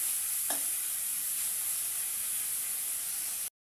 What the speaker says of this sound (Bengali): তো চলো চিকেনটা আগে ভেজে নিই